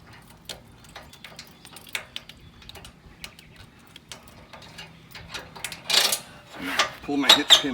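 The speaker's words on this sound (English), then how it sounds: "And I'll take my hitch pin off." A hitch pin is pulled from a camper trailer hitch with sway bars, giving small metallic clicks and light clinks that grow louder and more clustered toward the end.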